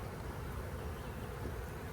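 Honeybees buzz at an open hive during an inspection, a faint, steady droning hum with no talk.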